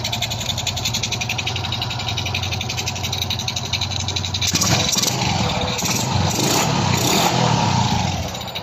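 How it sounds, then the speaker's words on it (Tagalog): A TVS Rock Z 125 motorcycle engine, freshly overhauled with a new connecting rod, idles in a steady fast putter, then revs up and holds a louder, rougher running note, close by with no talking. "Napakaganda ng tunog ng kanyang makina guys."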